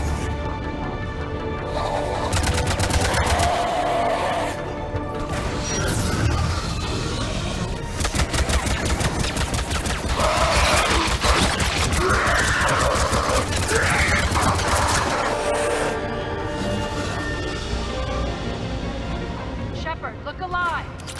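Sustained bursts of weapon fire from a firefight on Omega in Mass Effect 3 Legendary Edition, with rapid cracks and fusillades running throughout under frequent spoken game dialogue.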